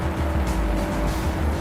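A KTM 790 Adventure motorcycle riding on Philippine roads, heard as a steady, loud engine hum wrapped in heavy wind rush, continuous and close throughout with no breaks.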